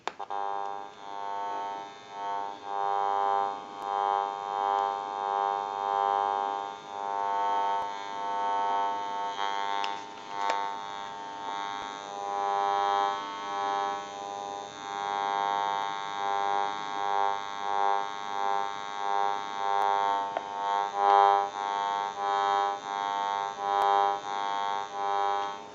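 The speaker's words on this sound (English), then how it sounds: "So that's the interference that we were talking about earlier." Electronic interference from a General Electric cordless telephone with interchanged frequencies, a steady buzzing tonal drone with pulsing warble, fairly loud and continuous throughout, no talking.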